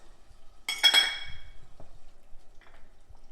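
A chilli chicken pasta sauce with garlic is stirred in a pan. A quick cluster of bright metallic clinks from the utensil hitting the pan is followed by faint, scattered taps in an otherwise quiet kitchen.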